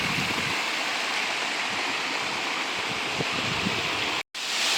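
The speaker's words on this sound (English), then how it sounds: "This is the waterfall that was far away in that video I took not too long ago. It's massive." The massive Viento Fresco waterfall in Monteverde pours with a steady, loud, broadband roar that fills the whole stretch. The sound cuts out for an instant near the end, then resumes. No one speaks.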